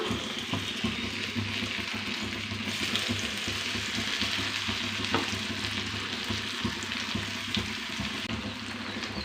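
Raw mango thokku being stirred with chilli powder in a pan, a steady low sizzle with soft scraping strokes running throughout, close and even, no voices.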